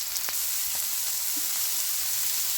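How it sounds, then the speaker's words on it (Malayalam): Onions with a pinch of salt fry in a pan, giving a steady, close, bright sizzle throughout with a few faint stirring taps and no voices. "ഈ സവോള ഒന്ന് പെട്ടെന്ന് വഴന്ന് വരാൻ വേണ്ടി ലേശം ഉപ്പും ആഡ് ചെയ്ത് കൊടുക്കുന്നുണ്ട്"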